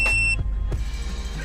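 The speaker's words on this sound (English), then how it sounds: "There will be a beep and the left front position will flash." A caravan tyre pressure sensor display entering pairing mode gives a short, clear electronic beep at the start, followed by a quiet low hum.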